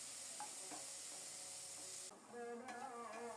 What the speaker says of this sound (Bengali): কিছুক্ষণ নেড়ে চেড়ে ভেজে নিয়েছি, একটু বাদামি রং ধরেছে।